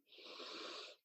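One deep, drawn-in breath during a guided group healing meditation, a soft airy inhale about a second long, faint and alone.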